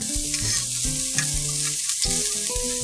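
Cabbage and carrots being stir-fried in the Cooking Mama video game, with steady sizzling under stepped game music tones, continuous and moderately loud with no voices.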